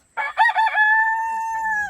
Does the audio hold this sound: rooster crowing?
yes